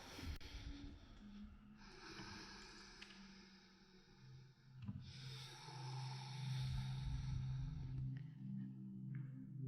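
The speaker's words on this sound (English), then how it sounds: "Take a deep inhale through the nose, exhale through the nose." Slow, deep Ujjayi breaths drawn in and out through the nose, a soft hissing rush that swells and fades in long cycles, close and steady with no talking.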